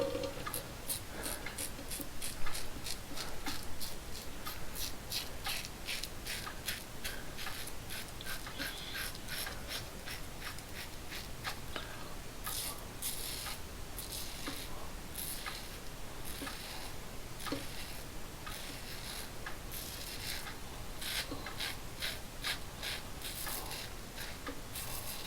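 Rockwell 6C safety razor dragging across stubble in a rough, uncomfortable shave, a steady run of close, rasping scrapes repeating in quick strokes for the whole stretch, with no talking.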